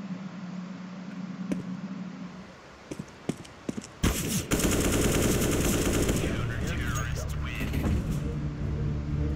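Gunfire in the video game CS:GO: a few scattered single shots, then a sustained loud burst of automatic fire with rapid rattling reports that carries on to the end.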